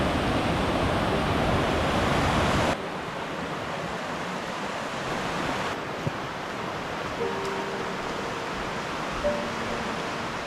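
A roaring waterfall in Ricketts Glen's Ganoga Glen pours as a loud, dense rush for a few seconds, then drops abruptly to a softer, steady wash of flowing water.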